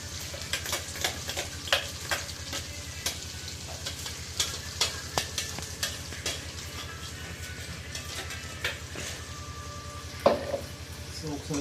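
Gongura leaves fry with chicken in a pan, giving a constant sizzle under repeated scraping and clinking as a utensil stirs them at an irregular pace, close and moderately loud.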